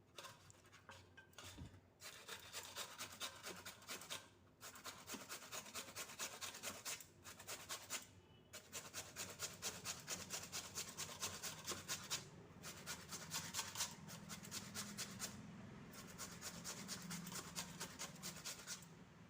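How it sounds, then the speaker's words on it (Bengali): Raw potatoes rubbed on a hand grater, a steady rhythmic rasping of repeated close strokes broken by brief pauses, no talking. "আমি একটা আলুর ঘষা মেশিন নিয়েছি। আমি এটা দিয়ে আলুটা একটা গ্রেট করে নেব"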